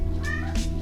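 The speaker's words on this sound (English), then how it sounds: "Sorry, that's my cat." Pet cat indoors giving a short meow, a brief close call ending in a quick second chirp, with no talk over it.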